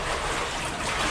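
Rushing water in a mine tunnel, a steady broadband wash with a low rumble, close and unbroken throughout with no talk.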